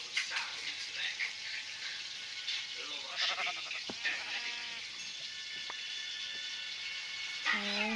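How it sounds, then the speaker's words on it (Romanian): Sheep bleat in Minecraft, two or three wavering calls over a constant hiss that resembles sizzling lava, with a few faint clicks scattered between. "Încă o oaie."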